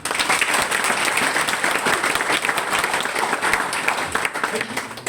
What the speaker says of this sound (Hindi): इनके लिए एक बार जोरदार ताली।